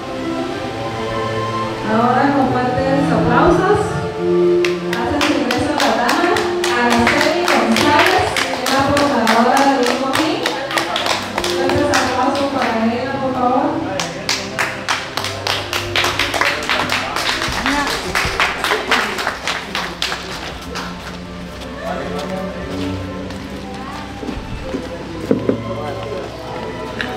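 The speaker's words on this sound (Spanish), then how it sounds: "Ahora con fuertes aplausos, hacen su ingreso a la dama." Loud applause at a wedding reception as a lady makes her entrance: dense rapid clapping swells in two long bursts over music and chatter, then thins to a few scattered claps at the end.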